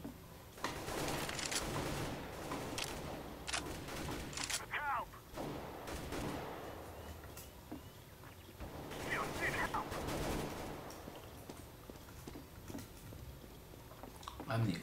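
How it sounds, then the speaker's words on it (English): Gunfire in the video game CS:GO, rapid bursts and scattered shots in a noisy firefight, fairly faint and mixed with other game sounds. "Getting shot out at all angles!"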